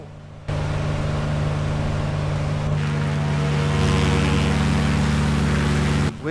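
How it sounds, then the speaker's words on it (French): The piston engines of a Piaggio P149D light aircraft in a flight simulator drone from outside the plane with a constant, loud tonal hum. The sound starts abruptly and cuts off near the end. "le bruit extérieur des moteurs est vraiment sympa aussi."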